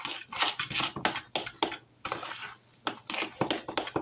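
Potato cake ingredients are stirred in a bowl, giving a string of fairly close scraping and clattering strokes in an uneven rhythm with brief pauses.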